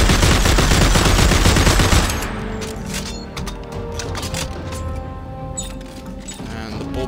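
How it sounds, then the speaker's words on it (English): Sustained automatic assault rifle fire in the video game Dead Space 3: a loud, rapid stream of shots for about two seconds, then stopping and leaving a quieter tail of mechanical clatter and ringing echoes. "And the assault rifle."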